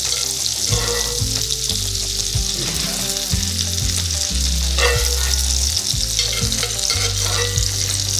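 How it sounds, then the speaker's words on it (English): Butter-braised burgers crackle loudly in a Staub cast iron skillet, a dense, constant sizzle and spatter that carries on without a break, no one speaking. "Butter braised burgers."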